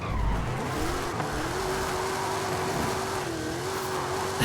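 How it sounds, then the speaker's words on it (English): A 2010 Ford Crown Victoria Police Interceptor drifts in a steering-wheel driving game, its engine holding a steady, slightly wavering drone while tires scrub and squeal continuously, with no talking. "This is so fun to just have a cop car that you're just drifting around."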